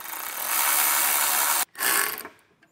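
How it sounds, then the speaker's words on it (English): A self-tapping screw is power-drilled into the steel body of a 2019 Honda Accord, a loud continuous grinding whir that stops abruptly, resumes briefly and then winds down. "So I'll go ahead and get this drilled through."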